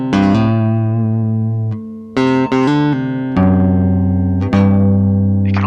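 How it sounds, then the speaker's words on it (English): An electric guitar through a D&D Carcosa silicon fuzz pedal set as a fairly clean boost rings out in a few strummed chords and single notes, each left to sustain and decay, loud and close with no talk. "Carcosa can be used as a nice, fairly clean boost."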